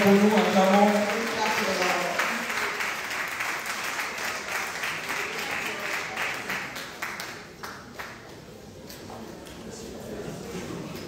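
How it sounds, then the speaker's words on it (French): A church congregation applauds during a Sunday service, with dense, steady clapping that fades gradually over about eleven seconds. Singing voices carry faintly at the start. "Est-ce que nous pouvons acclamer le Seigneur, s'il vous plaît?"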